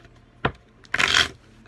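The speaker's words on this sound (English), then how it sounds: "I can't shuffle to save my life right now" A deck of tarot cards is shuffled by hand in two quick bursts, a short riffle followed by a longer crisp flutter, close and alone in a quiet room.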